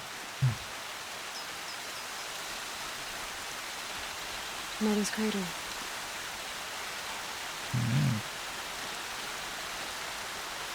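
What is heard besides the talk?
rain in a video game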